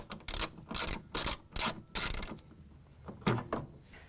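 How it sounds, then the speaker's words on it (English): A socket wrench ratchets off a 13 mm metric bolt holding a Whirlpool/KitchenAid/Maytag washer drive motor, five quick loud bursts of clicking followed by a pause and two shorter ratchet strokes, close up with no speech. "we can remove the bolt that holds the motor in. It's metric. It's 13 millimeter. So you can get a socket and take it off."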